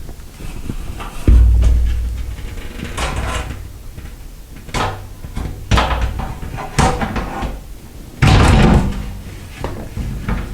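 Glass shower doors clunk and bump as each panel is tilted and hooked onto the top track, a series of sharp knocks and rattles at close range with quieter handling noise in between.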